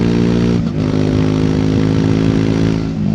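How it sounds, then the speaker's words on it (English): A 2024 Triumph Speed 400 single-cylinder motorcycle engine pulls loud and close on the road, with a steady thumping drone that dips briefly and then holds strong throughout, with no voices over it. "It's a great sounding single."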